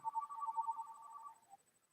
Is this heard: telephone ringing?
yes